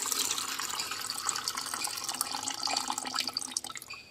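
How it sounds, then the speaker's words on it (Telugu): Water splashes and trickles steadily as it is poured off rinsed rice semolina from a container, a close, continuous liquid sound with no voices. "మళ్ళీ కాస్త నీళ్లు ఇలాగ వంపేసేయండి"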